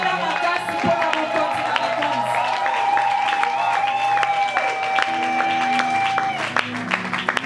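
A church congregation applauds and cheers for the king, a steady wash of clapping and crowd noise running throughout, with a sustained tone carrying over it.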